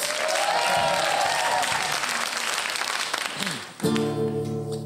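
Audience applause at a comedy show, dense and sustained, until a musical tone with steady harmonics cuts in near the end as the applause continues under it.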